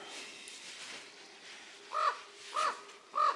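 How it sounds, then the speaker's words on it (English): A crow visits a winter hammock camp in the Boundary Waters, giving three loud, evenly spaced caws over a quiet outdoor background. "I got me a crow visitor."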